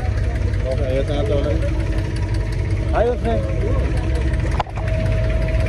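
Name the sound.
boat engine running, boat shaking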